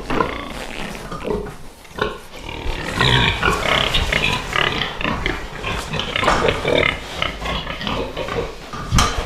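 Pigs munch apples up close, with continuous wet chewing, crunching and grunting oinks over several seconds, and the feeding noise louder in the middle.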